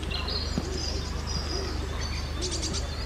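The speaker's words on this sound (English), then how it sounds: "Listen to the birds." Birds sing outdoors in the grounds of Fyne Court in early spring, with snowdrops out: high whistled phrases and a few low coos over a steady, noisy background hum.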